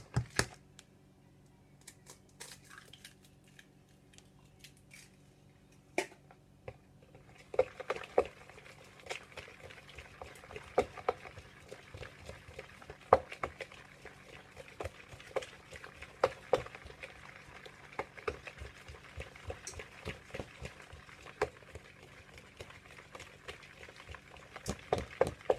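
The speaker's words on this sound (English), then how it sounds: "Second egg whipped in." Eggs are whipped into a keto cookie batter, a quiet rapid irregular tapping and clicking of a utensil against a bowl that grows busier after the first few seconds.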